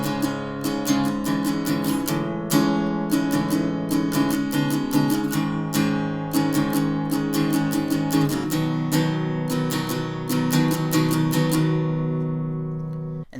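Acoustic guitar strummed in a steady up-and-down pattern through the verse and chorus of a song, bright, close and continuous for over ten seconds, fading at the end.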